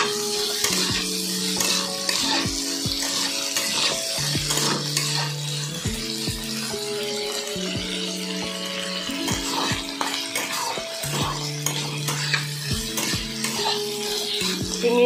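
Prawns fry in a pan while being stirred, a close, continuous sizzle with repeated scraping and clinking of a utensil against the pan, and a steady tonal hum underneath, no speech.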